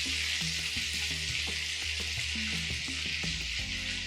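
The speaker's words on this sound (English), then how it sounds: "as soon as the butter melts and the oil is hot" Butter melts in hot oil in a pan for an Amritsari chicken masala, giving a steady, bright hiss and sizzle with occasional soft clicks and low kitchen hum beneath, with no one talking.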